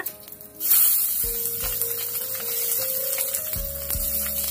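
Black cumin seeds and green chilies hit hot mustard oil, bursting into a loud, steady sizzling hiss that holds throughout, with a faint hum underneath.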